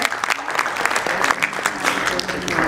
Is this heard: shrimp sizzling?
no